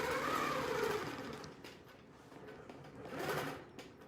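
A longarm quilting machine stitching along a crosshatch guide, a soft steady mechanical whir with a rapid needle rhythm, fairly quiet, swelling at the start and again near the end.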